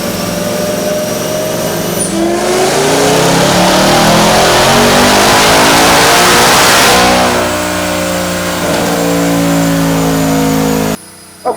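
A Whipple-supercharged Ford Mustang S650 makes a dyno pull in 7th gear, its engine roaring loudly as revs climb steadily for several seconds, peaking with supercharger whine, then easing off before cutting out abruptly near the end.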